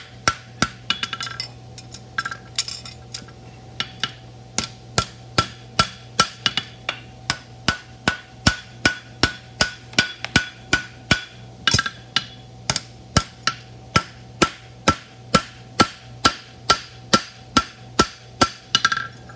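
Sheet metal for a roadster body panel is struck with a hammer, about forty sharp ringing blows landing in a steady, quickening rhythm, close and loud, over a low constant hum with no voices.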